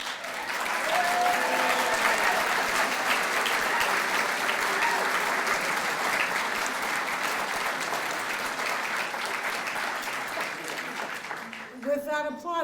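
Sustained applause from a banquet audience at an awards dinner, a dense steady wash of clapping that slowly fades toward the end as a voice begins speaking.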